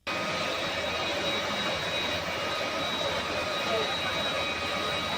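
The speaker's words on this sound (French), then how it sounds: "Ils sont embarqués dans cet avion qui va les emmener à l'aéroport de Mbuji-Mayi" Jet airliner engine roaring aboard a plane flying to Mbuji-Mayi airport in the Democratic Republic of Congo: a steady, loud, broadband cabin roar with a faint high whine, continuous throughout.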